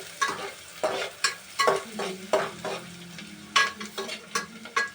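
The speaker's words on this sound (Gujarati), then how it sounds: "હવે કાંદાને આપણે હલાવી નાખશું" Onions frying in a pan for crab curry are stirred with a spoon, giving repeated scraping strokes every half second or so over a soft continuous sizzle, close and clear with no talking.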